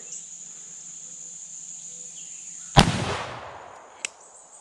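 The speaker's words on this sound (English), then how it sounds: "I'm going to shoot it into those books and see what it does." A single loud gunshot from an 1847 Colt Walker revolver firing a 200 grain bullet into a stack of books outdoors, with a sharp crack and a trailing echo over steady cricket chirping, then one small click.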